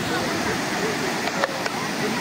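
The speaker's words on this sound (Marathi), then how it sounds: "मेन धबधबा इथे खाली आहे." Waterfall at Kasmal near Pen in the Sahyadri hills: a constant broad rushing roar of falling water fills the scene, with a couple of brief sharp clicks near the end.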